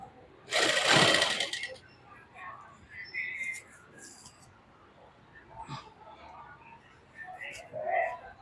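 A sewing machine stitches a lined suit in a short, loud whirring burst, then falls to quieter, intermittent clicks and handling sounds, with faint voices in the background.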